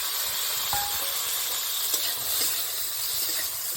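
Steady sizzling hiss of boiled mango and whole mustard seeds frying in a hot pan, fairly quiet and continuous, with a few faint clicks and no talk.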